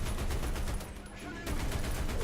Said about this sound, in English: Start firing my machine guns off